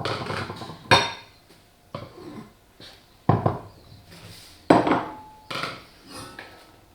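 Baby breakfast porridge spooned into a couple of bowls, with a series of sharp spoon-on-bowl clinks and scrapes at irregular intervals, close and fairly loud, no talking.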